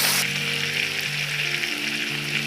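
Whole mochon fish half-frying in oil in a pan, a steady, close, even sizzle throughout.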